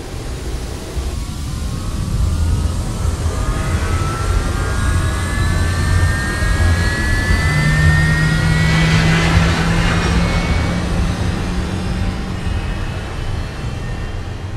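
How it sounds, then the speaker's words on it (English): A jet airliner takes off from a runway in the Roblox game, its engines roaring loudly and steadily with a whining rise in pitch as it builds thrust over about fifteen seconds. "clear for takeoff on runway 33"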